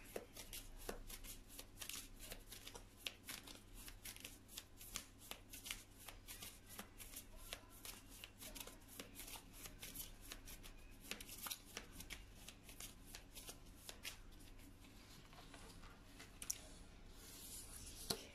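Tarot cards are shuffled steadily for a reading, a dense run of rapid papery flicks and soft slaps close up, continuing without pause and with no talking over it.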